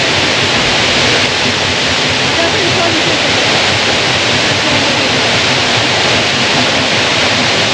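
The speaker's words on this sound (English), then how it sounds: "Waterfall is that you can dip your feet in" A waterfall water feature at Dubai Expo 2020 where visitors can dip their feet, producing a loud, steady broadband rush of falling water close by throughout.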